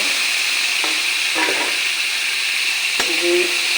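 Eggs are stirred into a sizzling pan with ridge gourd and shrimp. A spoon scrapes the pan in a few distinct strokes over a steady loud frying hiss.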